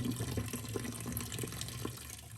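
Tap water runs steadily into a kitchen sink while potatoes are rinsed before cutting, with light splashes and trickles close by and no voices.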